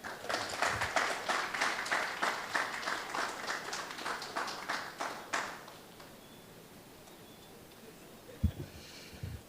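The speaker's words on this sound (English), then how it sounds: "Please give her another round of applause" Audience applause at the Grenada Football Association's 2025/26 Competition Awards ceremony: dense, steady clapping for about five seconds, then fading to a quiet room with a single sharp thump near the end.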